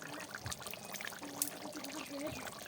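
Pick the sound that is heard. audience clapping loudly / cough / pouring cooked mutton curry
pouring cooked mutton curry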